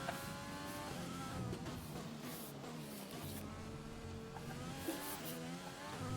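A Formula 1 race car in F1 2020 at the Spanish circuit accelerates hard, its high-pitched engine whine rising and shifting steadily through gears with a light tire squeal, heard close and continuous without talk.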